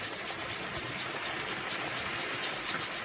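Wax paste is worked by hand into the finish of an Omega fountain pen, a steady, faint rubbing and scuffing with a soft rhythmic back-and-forth texture throughout.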